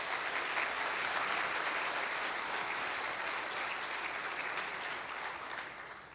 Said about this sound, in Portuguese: pedir uma salva de palmas para ela.